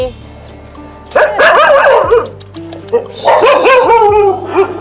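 Dogs, including some sick with distemper, bark in two loud bursts, several yips and barks overlapping close by, with a low steady hum underneath.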